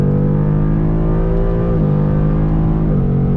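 A car revs hard through a full-throttle pull, loud and close, its engine tone climbing and dropping back at two gear shifts with no talk.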